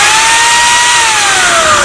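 Portable power drill held at top speed, a loud, steady high-pitched whine with a slowly falling motor tone running throughout, close and continuous with no talk.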